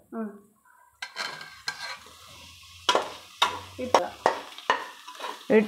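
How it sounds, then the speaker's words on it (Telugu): Tomatoes and green chillies fry in ginger garlic paste for a Nellore-style chicken biryani, with a steady run of close, loud stirring scrapes against the pan over a light sizzle. "టమాటాలు పచ్చిమిరపకాయలతో పాటు అల్లం వెల్లుల్లి పేస్ట్లో నూనె బయటకు వచ్చే వరకు వేయించుకోవాలి."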